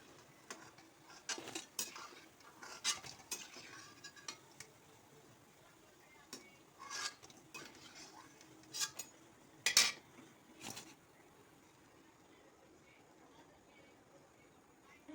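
Palm fritters are lifted out of a pan of frying oil, with sharp metal utensil clinks and scrapes against the pan over quiet sizzling, some louder knocks, and occasional speech.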